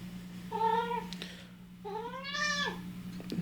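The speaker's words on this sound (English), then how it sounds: "This is my cat, Todd." A cat meows twice in a room, a short call followed by a longer, rising and falling one, close and clear over a low steady hum.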